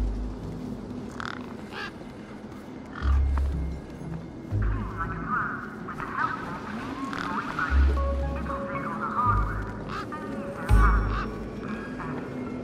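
A particularly large bird in the video game Beyond a Steel Sky gives several loud, repeated goose-like honks and quacks over a murmuring ambient backdrop, spaced a few seconds apart.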